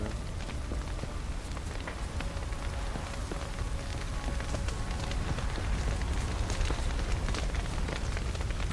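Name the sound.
rain in video game Assassin's Creed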